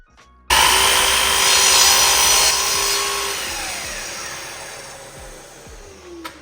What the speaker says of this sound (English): I transferred it to a scrap piece of wood and adjusted the miter saw accordingly to make the cut.